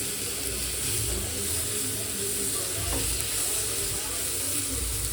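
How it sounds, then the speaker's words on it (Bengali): Soybean chunks fry in a little oil in a wok with a continuous close sizzle and faint scraping stirs. "এই যে অল্প করে তেল দিয়েছি কড়াইতে, যেটাতে আমি সয়াবিনটা একটু ভেজে নেব।"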